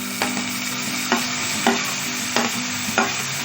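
Tomato stirred into browned onions and curry leaves for urundai kuzhambu makes a constant sizzle, broken by about five evenly spaced scraping strokes of a spoon on the pan.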